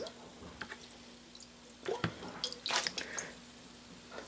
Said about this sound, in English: Rinse it off. That's just clear water,